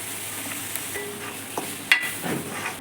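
Grated coconut fries with sugar in a pan while being stirred, giving a soft, quiet sizzle broken by a few scraping strokes of a spoon, one sharper clink standing out.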